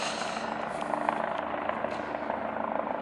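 A medical helicopter passes overhead with a steady, loud rotor thump and engine whine that stays constant throughout, without any voices.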